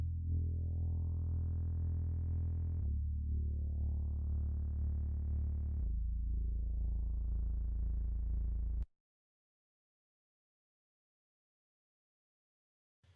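A low, soft synth bass line built from a stock Cubase synth patch for a pop/EDM second verse, with warm, wobbly effects. Three long sustained notes, each swelling and brightening, then it stops into silence.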